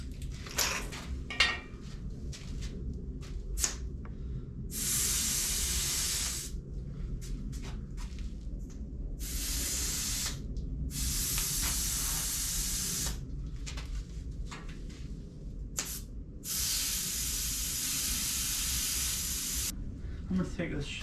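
An air bag suspension on the rear of a Datsun 620 deflates in several sharp, loud bursts of hissing air, separated by short pauses, with clanking and shuffling around the bursts.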